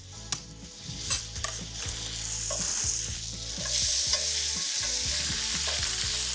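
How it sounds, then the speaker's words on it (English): Butter and crushed skin-on garlic cloves sizzle steadily in a hot pan, with a continuous close hiss that swells louder partway through, broken by occasional stirring scrapes and clinks. "I'm gonna go ahead and add in some butter, some garlic cloves that I'm just gonna crush."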